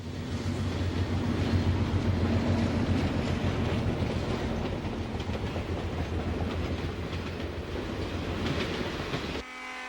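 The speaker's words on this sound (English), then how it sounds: "After an all-night run from St. Louis, the Detroit Limited approaches Detroit." Wabash Railroad's Detroit Limited passenger train approaches Detroit after an all-night run from St. Louis, a loud, steady rumble of wheels and cars with rhythmic clatter, cutting off abruptly near the end.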